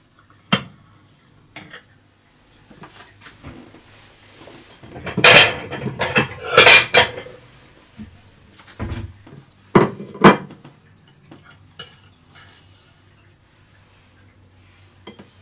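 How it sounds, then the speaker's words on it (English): A slice of Torta Caprese is cut and served, with sharp clatters of dishes and cutlery coming in scattered bursts, several loud knocks mid-way among quieter taps and scrapes, no talk. "I'm going to cut a slice of the cake"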